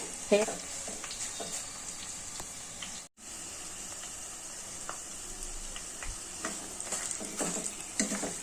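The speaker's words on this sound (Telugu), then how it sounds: "కిందికి పైకి చేయండి, కొంచెము కిందికి పైకి చేసి కలుపుతుండాలండి." Homemade herbal hair oil made with vetiver roots and shikakai being stirred in a pan, a continuous close sizzle and bubbling with scattered scraping stir strokes and a brief drop to silence midway.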